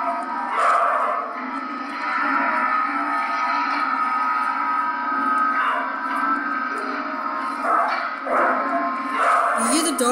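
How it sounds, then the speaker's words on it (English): A dog barks in short repeated bursts against a busy, layered background with other domestic noises overlapping throughout. "That sounds like a dog barking."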